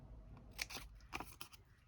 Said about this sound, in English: you are going to get your scissors and you are going to follow the lines on the 4 edges